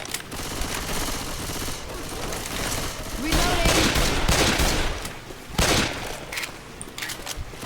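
Rapid bursts of gunfire in the video game Left 4 Dead, dense automatic fire crackling in clusters with a few louder booms, close and harsh, with players' voices heard intermittently.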